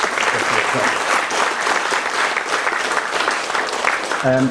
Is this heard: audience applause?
yes